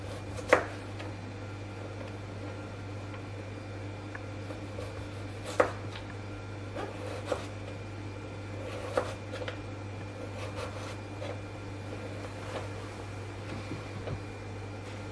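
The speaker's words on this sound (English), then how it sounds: "we've got another piece of carrot again, and we're going to cut some nice thin slices" A knife slices a carrot into thin slices on a cutting board, with sparse, soft, irregular taps over a steady low hum.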